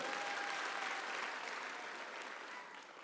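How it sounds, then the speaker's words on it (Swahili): Sustained applause from a crowd at a Minority Rights Day event at Bomas of Kenya, steady and full throughout, gradually easing toward the end. "Tumpe makofi na kongole."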